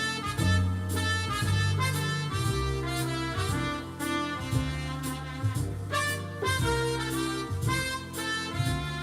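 Electronic keyboard with a one-finger melody over an automatic rhythm accompaniment, steady bass pattern and backing chords repeating beneath the tune, moderately loud and continuous, with no voices.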